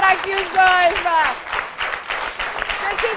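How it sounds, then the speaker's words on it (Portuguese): Studio audience applause on a morning television show breaks out beneath a host's voice, a steady wash of clapping continuing with music-like tones and talk over it. "Um aplauso"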